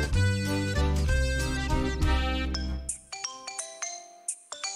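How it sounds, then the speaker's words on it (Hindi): A mobile phone rings with an incoming call, its bright melodic ringtone playing loudly and continuously, with repeated tonal notes and no talk. "कोई फोन कर रहा"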